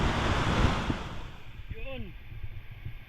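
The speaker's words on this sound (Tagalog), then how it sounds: "Lakas ang alon no." Strong sea waves surging onto a beach, a broad roaring wash with gusts of wind buffeting the microphone, close and loud, fading slightly as a voice speaks over it.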